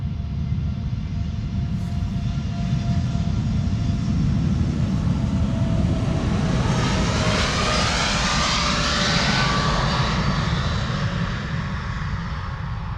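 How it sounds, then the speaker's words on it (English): An Air Canada Boeing 787 Dreamliner bound for Toronto spools up its jet engines for departure at Amsterdam Schiphol, a steady loud roar with a rising whine building over the deep rumble. "Air Canada flight 809 spooling up"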